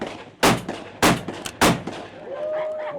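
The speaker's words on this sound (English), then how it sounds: "somebody shot one a long way off" Shotgun blasts during an upland bird and waterfowl hunt at Flint Oak in Fall River, Kansas: three sharp, loud reports spaced about half a second apart, each with a short outdoor echo, followed by a faint whistle-like tone.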